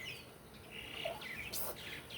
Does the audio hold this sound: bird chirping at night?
yes